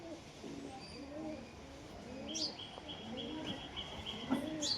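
Deshi Giribaz pigeons coo softly in a series of low, rolling calls, joined by a few faint high chirps, all fairly quiet and close.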